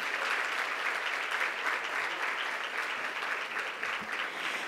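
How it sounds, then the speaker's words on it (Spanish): An audience at a First Lady's office event promoting children's technology bursts into loud, sustained applause, a dense wash of clapping that holds steady throughout. "Venga el aplauso muy fuerte también."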